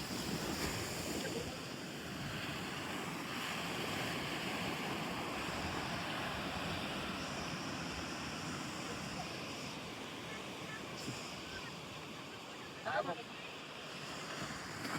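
Sea waves surge and wash in a continuous low roar, mixed with wind buffeting the microphone and a brief faint voice near the end.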